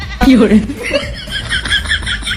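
Short, wavering goat bleats close by, a couple of calls mixed with other animal noise.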